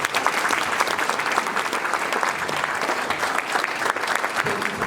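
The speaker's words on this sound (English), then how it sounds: "Please give these men a round of applause." Audience at a ceremony recognizing Vietnam-era veterans applauding, a sustained, loud wash of many hands clapping that holds steady throughout with a faint crowd murmur beneath.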